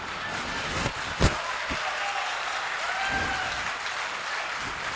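Applause from a comedy show audience, a broad continuous wash of clapping at moderate volume with a couple of sharper single claps standing out early on.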